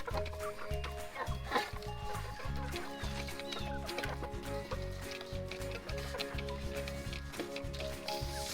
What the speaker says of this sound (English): The chicks are all doing fine. They are about 12 weeks old now.